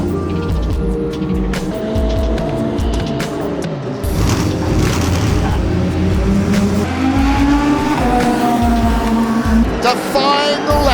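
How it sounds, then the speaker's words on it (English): Race cars at the Circuit of the Americas (COTA) brake hard into a corner, engines roaring and downshifting with tire squeal and skidding, loud and continuous. "Level coming down into the braking area. Who's going to find the grip?"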